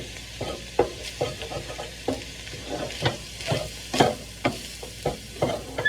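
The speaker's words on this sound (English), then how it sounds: "Get it all mixed in with that fat, and cook it." Meat being stirred and fried in its own fat for a breakfast bake, with a steady sizzle under repeated scraping strokes of a utensil against the pan, close and fairly even in rhythm.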